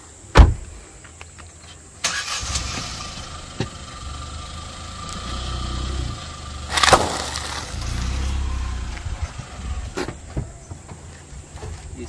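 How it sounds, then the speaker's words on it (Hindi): A Kia Sonet rolls its tire over a Haldiram Takatak snack packet, a sharp pop near the start and a crunchy burst midway over a low idling engine rumble, with faint scattered crackles. "इसको भी अभी हम ट्राई करके देखते हैं इस टायर के नीचे में किस तरीके से फूटता है और किस तरीके से इसकी साउंड"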